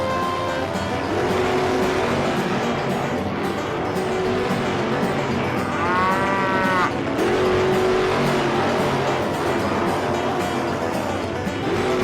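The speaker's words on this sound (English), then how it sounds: "Tractors, start your engines." Toy tractor engines whine and buzz continuously during a race, with a brief rising squeal partway through, loud and close throughout.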